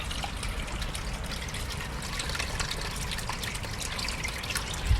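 Water drains steadily out of a snail pond, a soft continuous trickling and splashing with scattered drips, fairly quiet and without voices.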